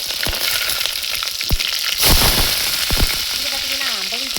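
Ten onions fry in a clay pot with fenugreek and cumin for koduva fish curry, giving a steady, close oil sizzle punctuated by sharp stirring knocks, with a voice entering toward the end.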